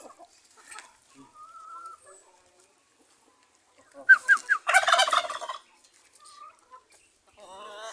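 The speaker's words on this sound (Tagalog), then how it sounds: "Paparami tayo ng pabo dito. Ingay." A turkey gobbles in a quick rattling burst, fairly close, with faint bird calls and quiet background noise around it.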